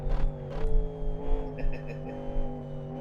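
Champ car engine in the racing game Live for Speed screams steadily at high revs, with layered harmonic whine that shifts pitch up and down through gear changes on a hot lap, loud and close with no talk.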